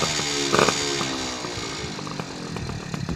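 A moped engine with a Doppler exhaust fitted with a silencer cartridge and a modified clutch using a doubled spring and three rollers, buzzing loud and close with a steady raspy drone and a brief rev surge.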